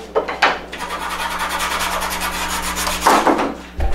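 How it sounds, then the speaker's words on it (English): Sandpaper rubs back and forth over a small piece of wood being shaped for a bird feeder hanger, a close, steady rasping scrape with short pauses at the start and end. "Take your sandpaper and"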